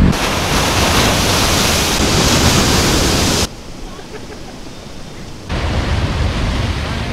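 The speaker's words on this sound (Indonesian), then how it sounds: "Ini ombaknya besar banget di sini." Loud, continuous roar of heavy surf crashing on a beach in Papua, dipping briefly in intensity before surging again.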